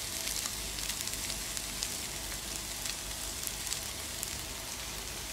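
Chopped green chillies sizzle in a pan for a Kerala prawn roast, a steady, close crackling hiss that fills the whole stretch without pause, with no voices over it.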